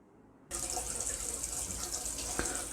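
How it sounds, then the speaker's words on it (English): Half a second of near silence gives way to a sudden, steady rushing gush as water from a high-pressure tap pours onto a small water turbine, with a brief splash near the end. "You can see water is falling on the turbine, it is moving, and LED you can see glowing"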